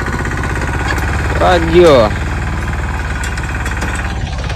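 A mini tractor stuck on a village farm runs with a steady, throbbing mid-pitched engine drone throughout, and a voice speaks briefly over it partway through.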